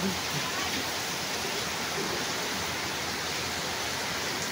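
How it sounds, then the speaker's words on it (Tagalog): Floodwater rushing down a street during a typhoon, a dense, loud, unbroken roar of flowing water filling the whole stretch. "ang lakas ng agos"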